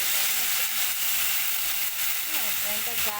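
Blended paste of onion, ginger, garlic and mustard sizzles steadily in a hot pan, a continuous close frying hiss with faint stirring and a few brief tonal clinks near the end.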